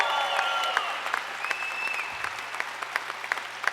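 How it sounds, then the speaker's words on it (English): Audience applause at a VCU athletics press conference, a steady patter of many clapping hands filling the room at moderate volume with scattered sharper claps, no voices over it. "Give yourselves a round of applause for being here."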